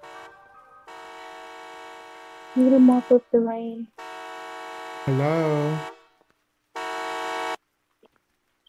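Horn in the Roblox game Midnight Market sounding in several separate sustained blasts of differing length, loud and close, alternating with a person speaking between the blasts.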